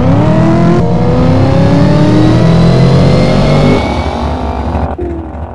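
A drag race car launches hard down the quarter mile in the racing game Doorslammers 2, its loud, close engine screaming as it revs up through rising pitch, with a sharp shift near the end before easing off.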